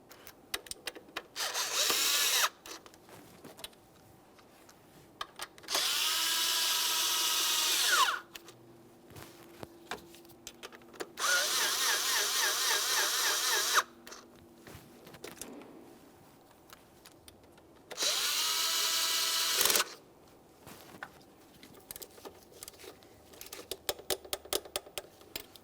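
A power tool runs in four separate bursts of a few seconds each, snugging bolts on a Mitsubishi Lancer knock sensor. Quiet ticks and clicks fill the gaps between bursts.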